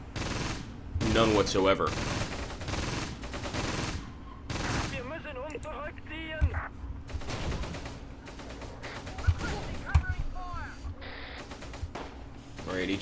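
Machine gun fire in the WWII tactical game Close Combat, dense rapid bursts and scattered gunshots crackling over about thirteen seconds, with occasional shouted voices in the mix.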